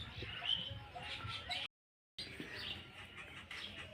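Small birds chirping faintly while pecking at scattered grain, brief thin tweets rising now and then over a soft, noisy outdoor background, with a short silent break midway.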